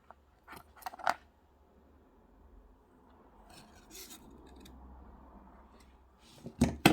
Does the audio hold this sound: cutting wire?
yes